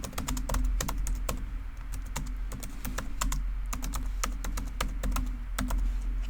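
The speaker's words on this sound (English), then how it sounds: "We can just hit T on our keyboard, turn on all caps, caps lock, and type in award" Steady, rapid typing on a computer keyboard close up, individual key clicks in a continuous rhythm with no talking.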